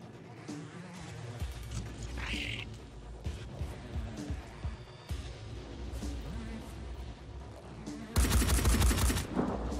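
Rapid automatic gunfire from machine guns in the video game Phoenix Point, a dense rattling barrage throughout that bursts louder and harsher near the end, with no talk over it.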